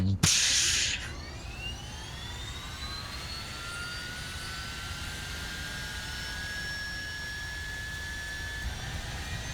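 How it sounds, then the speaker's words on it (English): Jet engines 7 and 8 of a B-36 Peacemaker bomber spool up, starting with a loud burst and then a rising whine that climbs steadily and holds over a constant roar. "Starting up engines 7 and 8."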